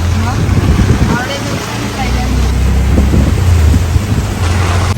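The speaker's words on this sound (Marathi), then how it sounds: "पाऊस केवढा जोरात पडते बघा" Heavy rain pours down in a continuous, loud, broadband wash with low rumbling underneath, and a voice speaks over it.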